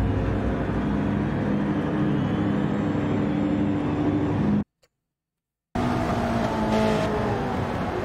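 Race car engines roar in Gran Turismo 7 during a Nations Cup online race, a loud, continuous droning whine from several cars that drops to silence for about a second before resuming.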